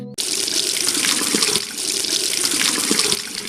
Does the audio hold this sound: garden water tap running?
yes